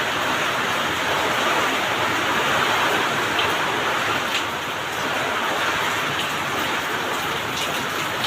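Heavy rain pours in Seyur near Avinashi, Tiruppur, amid strong wind, making a dense, constant roaring hiss of water hitting surfaces, loud and unbroken throughout.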